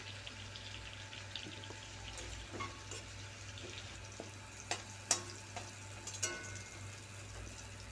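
A soft, steady sizzle of vegetables frying in oil, with a few sharp clinks of a utensil against the pan and no talking.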